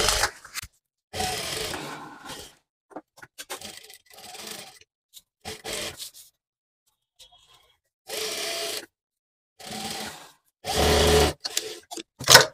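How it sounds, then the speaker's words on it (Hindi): A sewing machine stitches the edge of a bag made from leftover fabric in several short separate bursts, with quiet pauses between the runs. "किनारी की सिलाई लगाएंगे।"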